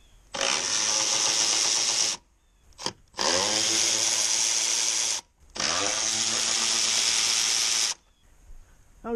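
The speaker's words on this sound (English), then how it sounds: "Now we're going to need a ratchet." A ratchet removes 10 mm bolts from a Jeep's air intake during a cold air intake install, sounding as three loud, sustained bursts of whirring about two seconds each, separated by short pauses.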